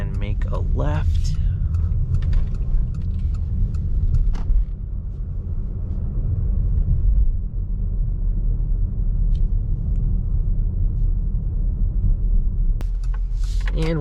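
A 2023 Mitsubishi Outlander SEL Premium driving at night gives a steady, low engine and road rumble throughout, with a few faint clicks and rattles from the cabin and no one talking.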